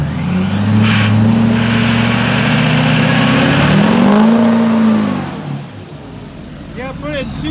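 A diesel Chevy truck revs hard with a loud, sustained engine roar that rises and falls while its wheels spin, then eases off, with people talking briefly near the end.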